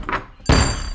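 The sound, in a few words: door bursting open, bakery doors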